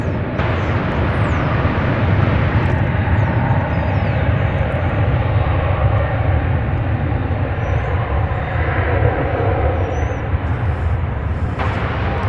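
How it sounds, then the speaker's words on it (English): An American Airlines airliner rolls down the runway at DFW Airport on departure for Mexico City, its engines producing a loud, steady roar that fills the whole stretch with no talk over it. "There you see American Flight 389. It's rolling now on its way to Mexico City."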